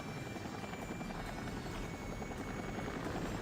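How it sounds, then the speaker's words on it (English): Helicopters from the 3DO video game Cyberia make a steady, dense rotor drone that fills the whole moment, with no talk over it. "I like how you have to sit there and just watch those helicopters."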